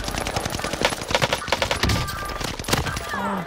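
Gunfire in the video game Vanguard crackles in loud, rapid, overlapping bursts that fill the whole moment.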